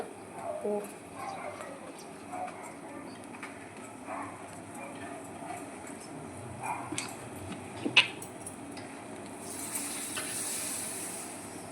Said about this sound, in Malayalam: രസം തേ നന്നായിട്ട് വെട്ടി തിളക്കുന്നുണ്ട്